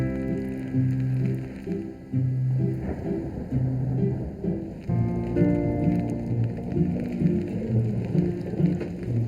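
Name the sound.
rain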